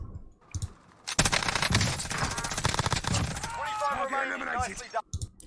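Rapid bursts of MG82 light machine gun fire in Call of Duty Warzone, a loud continuous fusillade of shots with brief pauses and shorter bursts at the start and end.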